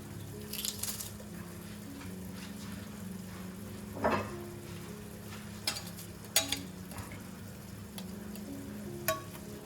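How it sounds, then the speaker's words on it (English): Garlic fries in a pan for a lentil and chicken soup with a low constant sizzle, broken by occasional scraping stirs and sharp utensil clicks against the pan, heard up close without speech. "And just let it fry for a couple of minutes"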